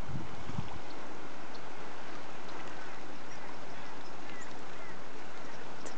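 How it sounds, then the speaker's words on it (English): A fast-moving little river with shallow edges, heard as a steady, dense rushing of water at constant loudness throughout, with no voices over it. "It's a pretty fast moving little river."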